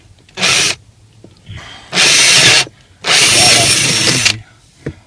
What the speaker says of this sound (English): So, first of all, again, drilling in.